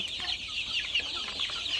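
Desi chickens on a farm cluck steadily while being fed from a bucket, a continuous close chorus of overlapping clucks with no talking.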